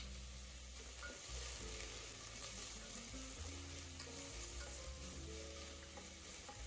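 Dry red chillies and curry leaves sizzle in hot oil for a tempering in a home kitchen, a steady, close crackling fry with occasional stirring clinks and no talk.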